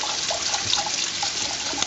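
A liter of whole milk pours steadily into a pan on the stove, making a continuous close splashing, gurgling liquid rush with no pauses.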